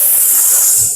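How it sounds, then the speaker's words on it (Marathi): Tempering for dal sizzles in hot oil, a loud, close burst of bright hissing that holds steady for about a second and then cuts off. "आता जो काही फोडणीचा आवाज येणार आहे"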